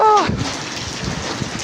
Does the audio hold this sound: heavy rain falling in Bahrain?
yes